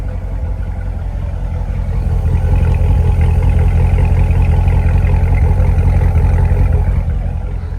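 C7 Corvette V8 running steadily at delivery, a deep, loud, continuous engine rumble that swells slightly after the first couple of seconds and holds, close by with no talking.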